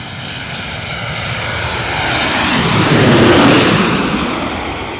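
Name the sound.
Boeing 737-800 jet plane engines on approach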